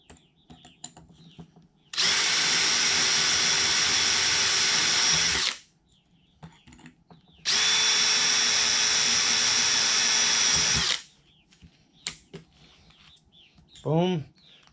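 Power drill boring through aircraft spar metal with a number 40 bit during an RV-4 crack repair, two loud sustained runs of about three and a half seconds each, separated by a pause, with faint bird chirps in the quiet gaps.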